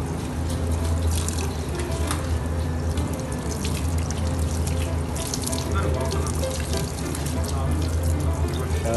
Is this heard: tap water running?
yes